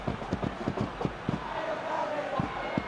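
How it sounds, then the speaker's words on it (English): Stadium crowd in a football video game, Master League mode with Kelantan FC, roaring and surging as an attack pushes through the middle, with a steady broad crowd noise and short sharp peaks of thuds and shouts. "Crowd calling for him to shoot."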